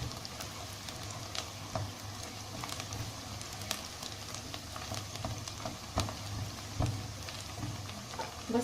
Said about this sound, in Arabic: دلوقتي بقى البصله تبلت معايا، بس انا مش هحمرها اكتر من كده